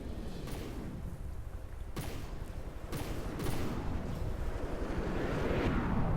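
Missile strike in a Robocraft-style vehicle battle game, a dense roar of repeated blasts with several sharp explosive bursts over a rumbling, wind-like wash that builds louder toward the end.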